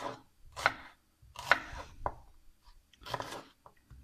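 Knife chopping vegetables on a board for vegetable stock, coarse cuts in short bursts of crisp thuds and crunches separated by brief pauses, close and fairly loud with no voices.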